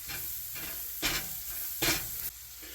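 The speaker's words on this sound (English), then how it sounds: "I'm going to go ahead and stir this again. Now that I'm letting this here saute for a little bit" Ingredients for channa masala sauté in a hot pan with a steady sizzle, broken by two loud scraping stirs around one and two seconds in, close and with no voices.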